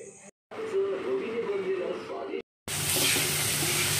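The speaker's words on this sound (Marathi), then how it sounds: "आता एक मोठा टोमॅटो पण घालून व्यवस्थित परतून घ्यायचा आहे।" Chopped onion and tomato sauté on a tawa for pav bhaji with a close, moderate sizzle and occasional stirring scrapes. Two brief silent cuts break the sound, and the final stretch grows brighter and hissier.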